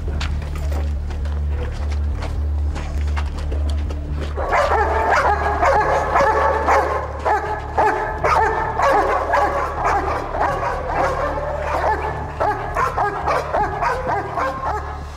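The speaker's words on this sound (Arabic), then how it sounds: "هدول كلاب للمخدرات مشان ما تفوت مخدرات لجوا على الأغلب." Several drug-sniffing dogs bark and yip in bursts, close and loud, over a low steady hum, with an occasional whimper.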